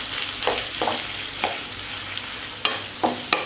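A potato mixture with red chilli powder, turmeric and salt stirred in a hot pan: a soft sizzle under about six sharp utensil scrapes against the pan, loud and close, no voices.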